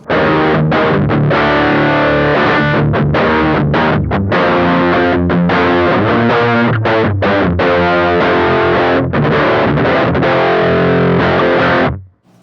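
Beetronics FX Wannabee fuzz pedal with both circuits stacked and every control at halfway, a thick, saturated fuzzed guitar playing loud, dense riffs and chords with brief gaps, sustaining steadily until an abrupt stop near the end.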